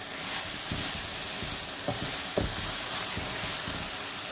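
Vegetables for a vegetable korma, mushrooms among them, fry steadily in a pan while a spoon scrapes through them with a few sharper knocks. There is no talking.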